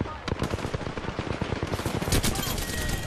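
Rapid automatic gunfire in the shooter Apex Legends, a loud, fast stream of shots with a short pause before bursts resume, heard up close through the whole clip.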